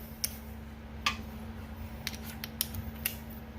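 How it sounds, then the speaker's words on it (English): Wrench work loosening 3/8 bolts on a Willys MB Dana 18 transfer case: a handful of faint sharp metallic clicks and ticks scattered over a quiet background hum, no talk. "we're going to remove these 3/8 bolts"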